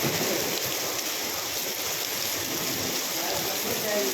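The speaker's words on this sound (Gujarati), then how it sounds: "આ તો અત્યારે પાછો વરસાદ આવ્યો ને એટલે મેં કીધું લાઈ તમને બધાને દેખાડું" Heavy rain pouring down in Rajkot: a dense, steady hiss of water that stays loud and close and unbroken throughout.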